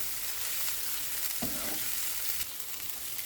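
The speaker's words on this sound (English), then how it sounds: "Flip it, and while flipping it, put a bit force for pressing" Yellow rice stir-fried in a pan, sizzling steadily throughout, with one brief scrape of the spatula as it is flipped and pressed partway through.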